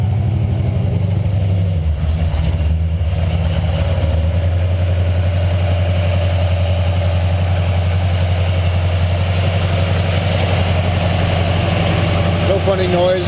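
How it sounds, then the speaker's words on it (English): A 1966 Dodge Charger sits idling on a cold start, a steady, smooth low exhaust rumble running evenly and close throughout, with a voice talking over it. "It's got the exhaust note. There's a lot of motor going on."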